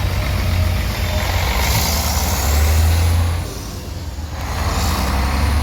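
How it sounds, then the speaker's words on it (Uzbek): New intercity bus on the Yekaterinburg–Tashkent route pulling away, its heavy diesel engine rumbling low and close with a hiss of air brakes, the rumble dipping briefly before rising again, no talk. "Yekaterinburg Toshkent yangi avtobus jo'nab ketdi."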